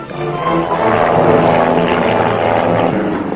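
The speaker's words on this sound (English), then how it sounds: "What's the matter with that plane? That motor don't sound right to me." A propeller airplane flies overhead with an engine that sounds faulty, a loud, steady droning roar that swells and holds for several seconds with no talking.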